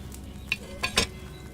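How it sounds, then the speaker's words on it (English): A potion bubbling in a cauldron hung over a flame in the medieval game Kingdom Come Deliverance II: a few soft wet pops and splashes rise over a quiet low hiss, spaced irregularly through the short stretch. "Hear that bubbling? It's boiling."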